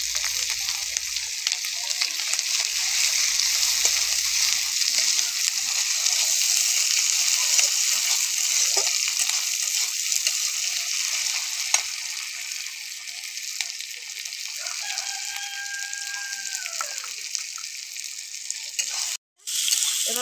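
Chopped tomato sizzling and frying in a pan for an egg and potato chop korma, a steady loud hiss of oil throughout with occasional stirring clatter and a brief sharp knock near the end.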